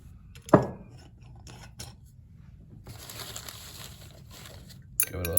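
A lab stirring rod clinks once against glassware as a solution is stirred after silver nitrate is added, followed by soft faint rattling and rustling, with a second brief clink near the end.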